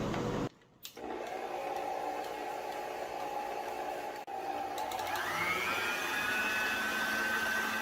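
Stand mixer running on its highest setting, beating butter and sugar for an apple cinnamon crunch cake, a loud, steady motor whine that starts after a brief dip and rises slightly in pitch, no talking.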